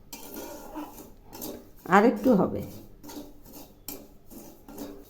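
Semolina dry-roasting in a kadai is stirred with a metal spoon, giving scraping clinks and one louder scrape, while someone speaks briefly.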